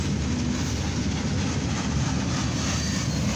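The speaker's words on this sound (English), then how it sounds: "This is a northbound CSX coil train." Northbound CSX coil train passing in Lima, Ohio, on the evening run from Cincinnati to Deshler: a loud, continuous low rumble and rolling roar of rail cars, steady and close throughout.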